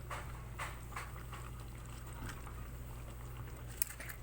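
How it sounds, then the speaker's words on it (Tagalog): A pot of humba pork stew bubbles and simmers quietly, soft irregular popping over a low steady hum, with one brief louder tick. "Pag kumukulo na siya."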